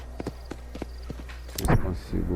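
Horse hooves clip-clop at a steady walking pace in the Red Dead Redemption video game, a regular series of soft thuds, with a voice talking over the end.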